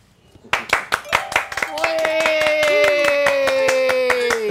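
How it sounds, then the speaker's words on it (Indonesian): A studio audience at a comedy show claps in a brisk, regular rhythm, starting as separate distinct claps. Sustained voices or music then join in and carry on over the steady clapping. "Tepuk tangan dong, jangan diam aja."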